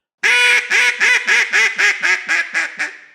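Duck call blown in a descending run of about ten quacks, loud and close, each nasal note evenly spaced and stepping gradually softer toward the end.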